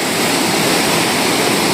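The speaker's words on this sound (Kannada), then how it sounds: "ನೋಡಿ ಎಷ್ಟು ಫಾಸ್ಟಾಗಿ ಹೋಗ್ತಿದೆ ನೀರು." The Penna river runs fast through a forest, giving a loud, dense, continuous roar of rushing water that fills the short stretch evenly, close by and without any voices.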